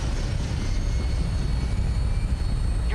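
An aircraft in the video game Fallout 4 takes off, a steady loud engine roar with low rumble holding evenly throughout and no talk.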